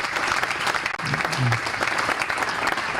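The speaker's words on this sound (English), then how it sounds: "So big round of applause for trustee Barnett." An audience gives a loud, sustained round of applause for a university trustee at a Southern Illinois event, dense clapping from a large crowd continuing without a break.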